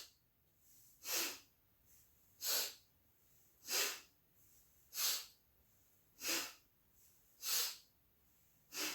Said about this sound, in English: So we breathe through the nose, inhaling and exhaling just equally strong